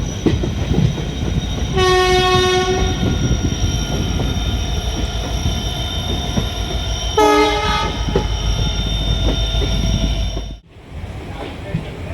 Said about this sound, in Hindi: हम लोग का ट्रेन आ चुकी है